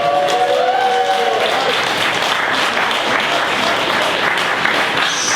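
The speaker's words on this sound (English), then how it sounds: "that deserves applause" Wedding guests applaud after a toast, a dense, loud, steady burst of many hands clapping that continues for several seconds with no clear break.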